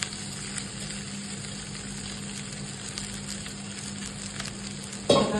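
Cooled cooked rice hisses and sizzles steadily in a hot pan with fried vegetables for street-style egg fried rice, a continuous close frying noise with a louder stir clatter near the end and no talking.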